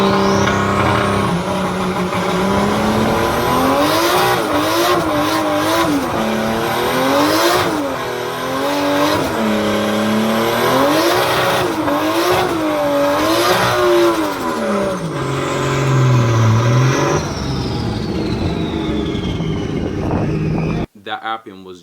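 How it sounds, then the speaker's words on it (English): A loud turbocharged manual car's engine revs and bogs repeatedly, rising and falling in pitch under strain, as the clutch drops in second gear at low RPM and the tires spin slowly, then cuts off abruptly near the end. "when I drop the clutch, the wheels start to spin, but they're spinning slowly"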